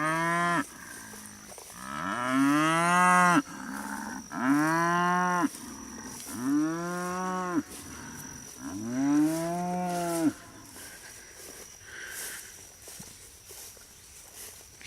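A cow calling for her missing calf, five long, loud moos in a row, each separated by a short pause, with faint rustling steps between calls and no one talking.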